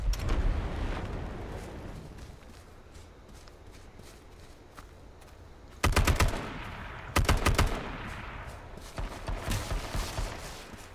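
Gunfire in the battle royale game H1Z1, with sharp bursts of automatic shots at close range among quieter footsteps and scuffling between volleys.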